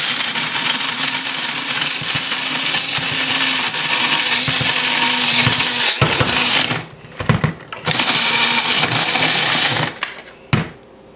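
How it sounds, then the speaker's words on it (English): An electric spice grinder grinds nuts into meal with a loud, steady high-pitched whir that cuts out in short gaps, pulsing on and off before stopping near the end. "put it in your spice grinder, and then we're just going to turn that on to make the meal"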